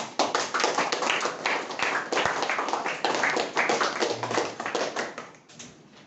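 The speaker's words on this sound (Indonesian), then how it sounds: "Jadi tepuk tangan dulu." A class of students claps hands together in a classroom, a loud, close, continuous burst of claps with uneven rhythm lasting about five seconds before fading.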